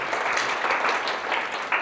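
Audience applause at an AWS KRUG serverless meetup, a short burst of steady clapping from a room of people, fairly loud and continuous throughout.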